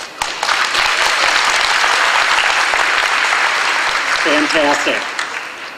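Applause from a conference session audience, a loud, steady wash of clapping that fills the room for several seconds before easing off. A voice briefly speaks over the tail end.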